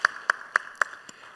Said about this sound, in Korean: 우리 격려의 박수 한번 하시겠습니다.